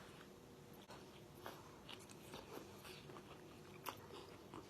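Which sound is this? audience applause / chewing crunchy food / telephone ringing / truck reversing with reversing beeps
chewing crunchy food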